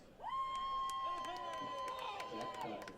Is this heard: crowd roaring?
yes